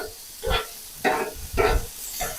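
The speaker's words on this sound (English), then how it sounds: "Give our peppers a stir." Peppers sizzle on a full-size Weber gas griddle as they are stirred, four rhythmic bursts of scraping and hissing about half a second apart over a steady background sizzle, close and clear.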